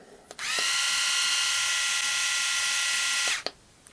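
A small electric head shaver, a JIMSTER 10-in-1 magnetic model, switches on with a click, hums steadily at a high pitch for about three seconds, then clicks off.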